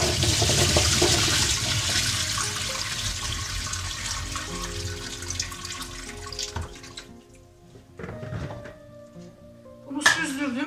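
Water from washed green olives draining through a strainer, a continuous loud splashing rush that gradually thins to trickles and drips, ending with a brief clatter of handling.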